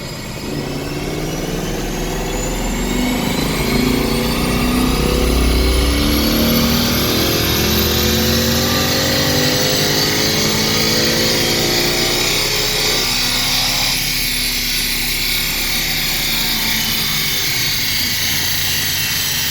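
Ford Coyote V8 fitted with a test intake manifold, running a full-throttle pull on a dyno: loud, continuous engine roar rising steadily in pitch over about fifteen seconds, then easing off near the end, with no talking.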